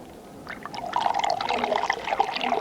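Poitin spirit poured from a jug into a glass, a steady close splashing trickle that swells and holds for a couple of seconds, with no talking.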